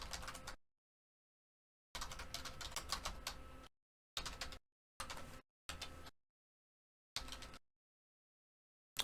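Fingers tap a computer keyboard in quick, quiet runs, with several short bursts separated by total silence.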